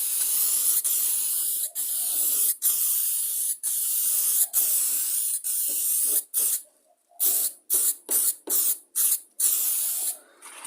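An aerosol spray can paints an old lawn mower in a string of hissing bursts, long steady sprays at first and then quicker short puffs separated by brief silences.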